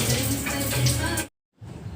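Tap water runs steadily into a basin as a vessel is rinsed, a broad continuous rush that stops abruptly, goes silent for a moment, then resumes more softly.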